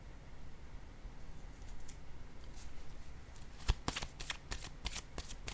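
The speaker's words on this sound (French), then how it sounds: "Je vais déposer une autre carte encore une fois, ici" Tarot cards being shuffled close up, a soft riffling texture followed by a quick series of sharp snaps and flicks as cards are handled and laid down, fairly quiet with no talk.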